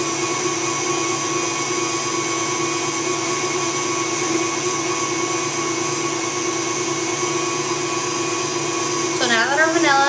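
An electric mixer whips vanilla and powdered sugar, a loud continuous motor whir that stays even throughout, with a brief pitch wobble as the speed shifts at the end.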